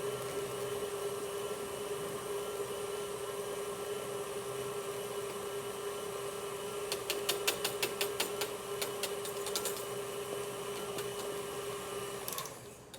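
A stand mixer with a paddle runs steadily in chocolate butter cake batter, a high-ratio cake made by the two-stage method. The motor gives a constant hum, with a burst of rapid ticking partway through before it winds down at the end.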